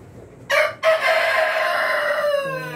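A Rhode Island rooster crows once nearby, a loud drawn-out call lasting about two seconds after a short opening note, with faint clucking from the breeder hens around it.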